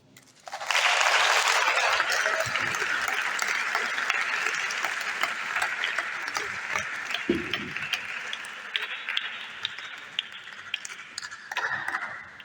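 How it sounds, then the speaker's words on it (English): An audience at a chemistry festival breaks into applause that starts abruptly, stays full for several seconds, then slowly thins toward the end, with a few voices faintly audible underneath. "Please, I want us to give him another round of applause."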